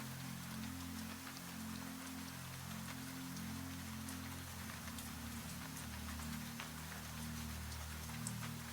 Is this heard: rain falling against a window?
yes